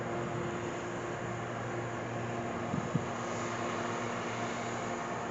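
Steady machinery drone from a grain elevator near old railroad truss bridges, a constant low hum and broadband roar heard from some distance outdoors, with no speech.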